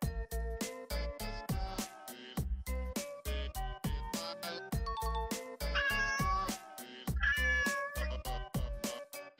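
A pet cat meows over and over in short, close calls with a few drawn-out wailing cries mixed in, a quick irregular rhythm with brief pauses between each meow.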